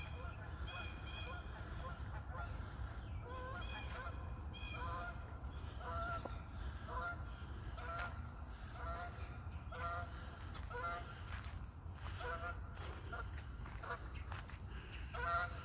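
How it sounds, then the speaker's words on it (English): Geese honk repeatedly in the distance on a foggy spring hike, a ragged chorus of calls rising and falling over a steady low rumble of wind or traffic. "I hear geese."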